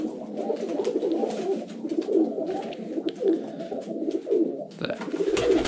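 Domestic pigeons cooing near their nest, a continuous chorus of low, rolling coos from several birds close by, steady and loud without any talking.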